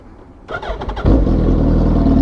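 A Suzuki Hayabusa motorcycle engine cranks briefly, then catches and settles into a loud, steady idle close by.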